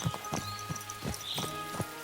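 Hooves of a horse in the video game Kingdom Come: Deliverance 2 clip-clop at a steady walking rhythm, fairly quiet and close, with a faint tonal backdrop.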